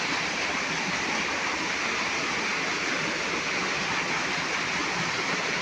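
Tall waterfall pouring with steady, loud broadband roar, continuous and close.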